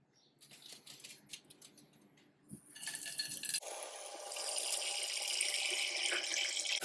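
After some light clinking, water starts running into a pan for poaching eggs, growing to a steady, loud rush that continues to the end.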